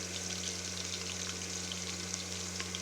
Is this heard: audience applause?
no